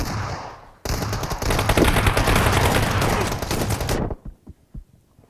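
Loud, dense automatic rifle fire in PUBG Mobile, a sustained burst of rapid shots lasting about three seconds after a brief lead-in, then a few scattered single reports trailing off.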